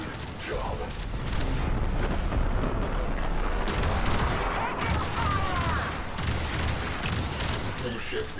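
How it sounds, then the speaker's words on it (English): A cruise ship reactor detonating in Warframe, a long rumbling blast with crackling debris and booming layers that swell and sustain for several seconds, loud and heavy throughout. "Cruise ship reactor has detonated"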